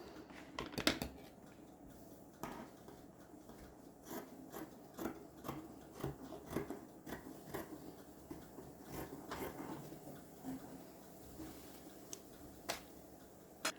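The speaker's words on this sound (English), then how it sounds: "Okay, so now I can cut it to open." Scissors snip through fabric to open a sewn slit in a skirt or dress front, producing a series of crisp irregular clicks and cuts close by against a quiet room, with no speech.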